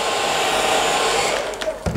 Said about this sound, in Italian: riusate il phon